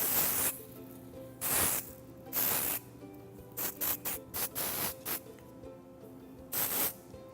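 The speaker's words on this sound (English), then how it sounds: "As I'm spraying in the product, I'm picking up my hair and releasing" City Swept hair product sprays from an aerosol can onto hair in about ten close, sharp hissing bursts: three longer blasts, a rapid run of short spurts, then one final burst, with no speech.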